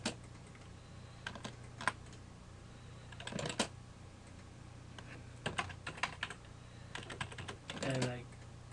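Someone types in bursts of clicky keystrokes on a computer keyboard, with short irregular clusters and pauses, close and fairly quiet over a low steady hum.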